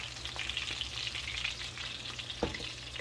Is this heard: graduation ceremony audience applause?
no